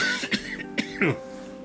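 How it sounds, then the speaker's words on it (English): A man coughs three times in quick, harsh bursts, close and fairly loud, with a throaty clearing sound mixed in. "Excuse me for coughing, folks."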